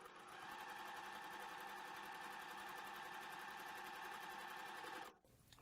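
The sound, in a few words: sewing machine stitching quilt fabric pieces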